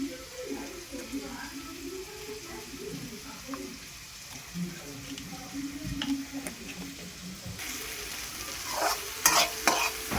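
Garlic fries and crackles in a pan while a spoon stirs it, the sizzle building toward the end, with a person talking over it throughout; the garlic is for a chicken momo sauce.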